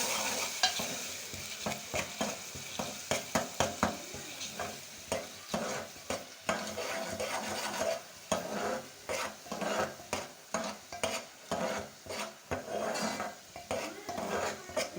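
Onion being fried and stirred with garlic-ginger paste in a pan for chicken achar gosht: steady close sizzle with repeated scraping strokes of a spoon against the pot, continuous and fairly loud.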